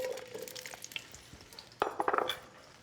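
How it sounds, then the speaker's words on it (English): Zucchini in olive oil in a pan gives a faint, low sizzle, with a few scattered stirring scrapes and a cluster of sharper utensil clicks near the end. "We want to caramelize this zucchini"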